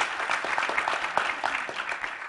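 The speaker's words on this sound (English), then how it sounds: "let's get a round of applause for this panel" A short burst of audience applause for a panel at a discussion event on race and the presidential campaign, brisk, dense clapping from a crowd, fairly close and even.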